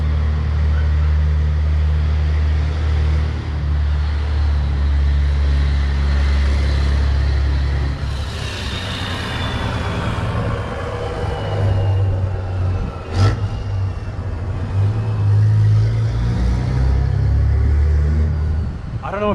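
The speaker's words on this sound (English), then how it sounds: "there was a giant 18-wheeler truck hauling a giant tree" A giant 18-wheeler truck hauling a huge tree rolls past with a deep, continuous engine rumble. The noise swells and shifts in pitch as it draws level midway, then eases off while the droning continues.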